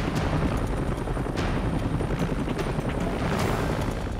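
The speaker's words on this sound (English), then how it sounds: "Lifting the patient to the helicopter requires a high hover, an essential but risky maneuver." A rescue helicopter holds a high hover over a California beach during a patient lift, its rotor thumping loudly and steadily throughout.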